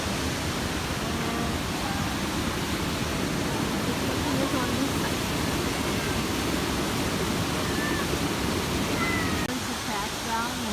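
Waterfall in the Black Forest, with a steady broad rush of falling water filling the scene from start to finish, close and constant, with faint crowd murmur mixed in.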